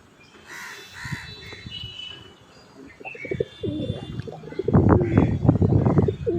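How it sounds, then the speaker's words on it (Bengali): Caged pigeons, frightened and calling, coo and flutter close by in a cluster of low, throaty bursts that build louder toward the end over a busy background. "খাঁচার মধ্যে ভয় পাচ্ছে তো এই যে ডাকাডাকি করতে লেগে গেলো"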